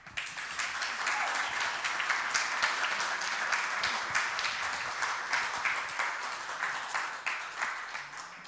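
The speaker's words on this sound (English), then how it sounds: "please, everybody give a round of applause to Sani Youssef." An audience applauds steadily, a dense wash of many hands clapping that continues throughout without fading.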